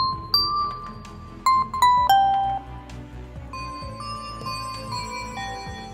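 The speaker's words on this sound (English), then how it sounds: "let's search for a bell sound" Bright synthesized bell tones from a Yamaha Montage ring out in a short melodic run, several struck notes with sustained shimmering overtones, clear and close with no voices.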